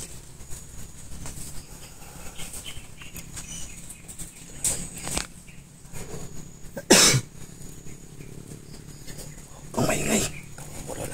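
A few sharp coughs burst out in a quiet, rustling setting, one especially loud near the middle and another rough one later, with scattered faint noises between.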